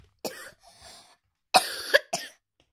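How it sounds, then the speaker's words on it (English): A child coughs in three separate bursts, the first two close together and the last a short harsh pair, with brief quiet between them. "I was coughing and coughing."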